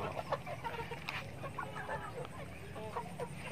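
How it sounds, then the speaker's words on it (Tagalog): A flock of free-ranging native chickens, twelve young birds, clucking repeatedly and overlapping at close range in a rice field setting. "So heto na yung mga manok natin guys, yung 12 na napisa noon."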